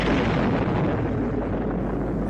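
A film-effects explosion from the 1961 disaster movie The Devil at 4 O'Clock gives a heavy rumbling roar, a continuous dense boom that fades slightly over a couple of seconds.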